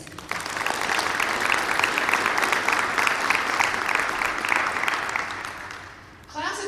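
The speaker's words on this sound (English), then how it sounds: "Please give the parents and guardians a round of applause." At a 2020 grades 6-12 charter school graduation, a crowd gives sustained applause for the parents and guardians, with steady clapping for about six seconds before it fades and a voice begins.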